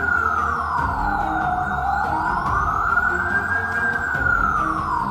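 A police siren wails in slow rising and falling sweeps, loud and steady throughout, over a low rumbling background with no talking.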